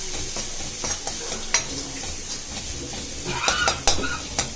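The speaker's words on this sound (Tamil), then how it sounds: "இப்போ இந்த எண்ணெயிலே இதை நல்லா வதக்கிட்டு" Green chillies and seasoning sauté in hot oil in a pan for white chickpea sundal, with a steady sizzle and a spoon scraping and clinking against the pan, growing busier toward the end with no talk.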